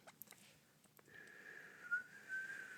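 A person whistles, starting with a few faint breathy attempts and light clicks, then settling into a thin sustained tone that wavers slightly in pitch, quiet and close.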